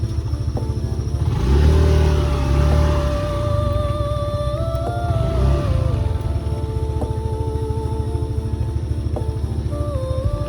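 A motorcycle engine on a mountain trail idles with a steady throbbing rumble, rising in two loud revving surges early on before settling back to a close, even idle.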